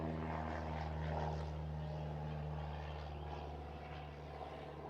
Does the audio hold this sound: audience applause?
no